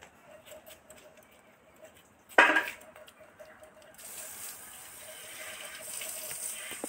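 Hands rinsed with water while preparing a rohu fish curry with okra: a sudden splash, then a steady stream of running water that keeps going, close and moderately loud, with no talking.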